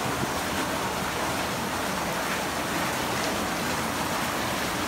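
Heavy rain pouring outside a house after half an hour of downpour, a steady, dense hiss of falling water that stays loud and even throughout, with no voices.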